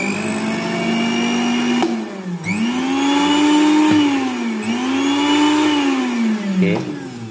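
A repaired Miyako blender running loud and close, its motor whine rising and dipping several times as the load shifts, with a sharp click near the start and another near the end.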